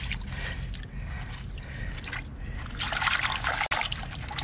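Cold creek water trickling and sloshing over rocks in a Pennsylvania stream, a steady close wash of running water that swells louder toward the end, with no voices.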